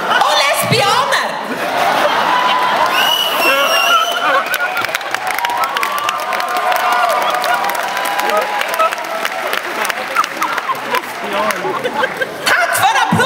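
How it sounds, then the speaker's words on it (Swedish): Audience at a gay gala in Sweden applauds and cheers loudly and steadily, with scattered laughter and crowd noise sustained for over ten seconds. "Tack för applåden!"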